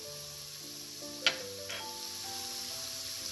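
Spices, including turmeric, pepper, chilli and fennel seed powders, sizzle steadily in a frying pan, with a brief sharp clink from stirring partway through and no voices.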